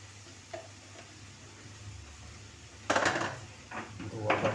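A spoon stirs chole (chickpeas) in a cooking pot on a stove: quiet at first, then louder scraping and clattering bursts in the second half, close up with no speech.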